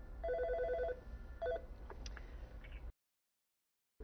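An office telephone at a travel call center rings for an incoming call, two bursts of electronic trilling tones, the first longer and the second brief, followed by a few soft clicks and then silence.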